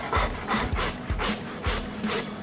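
A butcher saws through the top end of a lamb saddle, splitting the bone in steady back-and-forth rasping strokes, close and loud, about five strokes with no talking.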